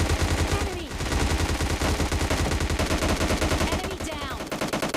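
Rapid automatic gunfire rattles almost nonstop in PUBG Mobile as a knocked-down player is finished off, loud and dense, with overlapping shots filling the whole stretch.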